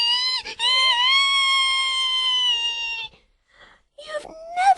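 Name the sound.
child character screeching in an audiobook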